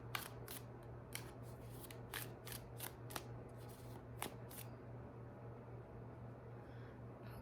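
Tarot cards from the Intuitive Night Goddess deck handled and picked: a run of crisp, close snapping clicks and slides for about five seconds, then quieter rustling over a faint steady hum, with no speech.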